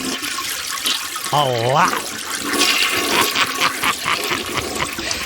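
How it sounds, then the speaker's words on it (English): A men's room toilet flushes with a loud, rushing gush of water that fills the whole moment, while a person speaks briefly over the flow. "I start flushing the toilet."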